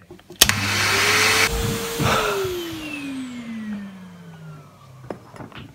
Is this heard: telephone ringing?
no